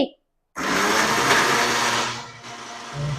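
A kitchen mixer grinder roars at full speed in a loud, continuous whir that drops slightly near the end, following a brief silence at the start.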